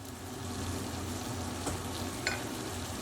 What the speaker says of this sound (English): into a pan on a medium to high heat, we'll add about 2 tablespoons of butter